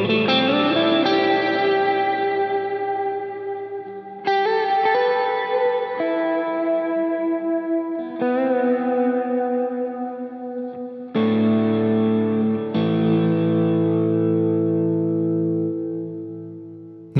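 A guitar played through a Line 6 POD GO with Glitz reverb set to a 90 Hz crossover: sustained distorted chords ring out one after another, each trailing into a lush, shimmering reverb wash.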